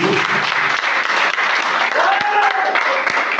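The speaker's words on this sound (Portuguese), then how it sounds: "Dê uma salva de palmas para Jesus." A church congregation at a Pentecostal sermon applauds for Jesus, a loud, steady wall of clapping that holds without a break, with faint voices and cheers mixed into the crowd noise.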